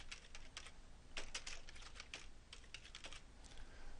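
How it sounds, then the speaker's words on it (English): Rapid, uneven keystrokes on a computer keyboard, close and crisp, with short pauses between bursts of typing. "I'll start by typing the pattern."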